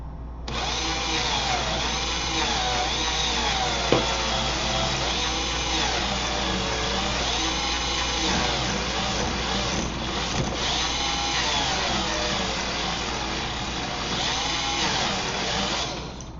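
A small electric drive motor on a wheeled robot whines steadily under load as its wheel is held back, a sustained buzzing drone with a rising and falling pitch, close and alone.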